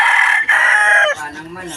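Chickens on a Filipino backyard farm, a loud close rooster crow followed by clucking and fowl calls, with no other sound over them.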